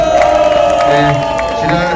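A large crowd at a candlelight protest rally in Suwon, South Korea, cheering and shouting continuously, loud and close, with a dense wash of voices that sounds more like cheers than clapping.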